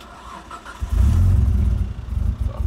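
An R33 Nissan Skyline engine turns over and catches after a quiet start, then settles into a loud, rough, rumbling idle that hints at an exhaust leak. The engine is close by and no one talks.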